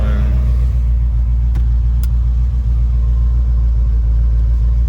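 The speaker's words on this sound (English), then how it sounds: "This car is so dumb, it's running right now." A 1994 Chevrolet Corvette engine idles with a loud, steady low rumble, close and constant throughout, with a couple of brief clicks near the start.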